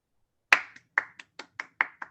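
A single person claps hands after an online conference talk, about eight sharp, close claps in a quick, slightly uneven rhythm over silence.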